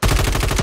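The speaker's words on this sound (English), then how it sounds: "On the count of three, we will shoot him." Rapid automatic gunfire from the video game Warzone 3 rattles off in a tight, loud burst of about a dozen shots in under a second.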